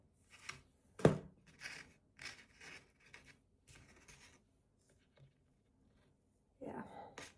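Scissors snipping ornament paper up close, several short, quiet cuts at irregular intervals with pauses between them.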